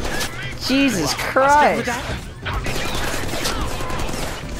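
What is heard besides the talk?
gunfire in the Deadpool video game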